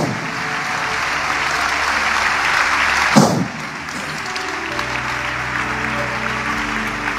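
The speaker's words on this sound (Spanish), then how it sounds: "¿Cuánto aplauden al Señor Jesús?" A church congregation applauds loudly in a dense, continuous patter of many hands clapping together, swelling briefly before easing back to steady clapping with an organ or keyboard tone sustained underneath.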